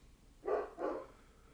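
A dog indoors gives two quick, fairly faint barks in close succession, heard alone without any talk.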